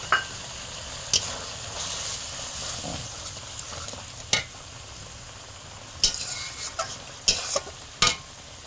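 A spice paste of ground poppy seeds, melon seeds, nuts and chilli is stirred in a frying pan, with a soft steady sizzle under scraping strokes and several sharp spoon knocks against the pan.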